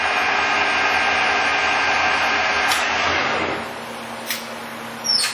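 A Moriseiki 17.5 x 33 inch lathe spinning at 510 RPM gives a steady, close mechanical hum with a whirring drone, which eases down partway through to a quieter idle.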